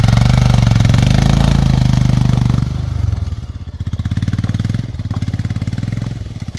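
A motorcycle fitted with snow chains starts and runs in the snow, loud and close, revving at first and then settling into a steady pulsing idle.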